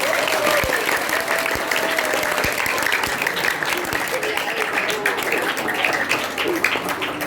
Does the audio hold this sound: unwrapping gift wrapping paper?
no